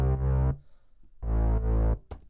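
Two heavy, buzzy synth bass notes with a thick low end, each held about half a second, followed by a short higher blip.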